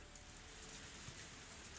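Rain falls steadily outside at night, a soft, even hiss of drops that stays constant and fairly faint, with no one speaking.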